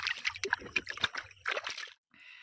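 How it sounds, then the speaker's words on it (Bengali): Banana leaves are swished and washed in a village pond, giving close, irregular splashes and sloshing water with a few trickles, then a brief pause before quieter dripping at the end. "পাতাটা এবার ধুয়ে নেবো, পুকুর থেকে প্রথমে ধুয়ে নেবো, তারপর কলে ধোবো"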